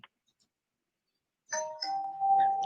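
A doorbell chime sounds in a quiet home after more than a second of near silence, ringing as a clear sustained tone that holds to the end at moderate loudness.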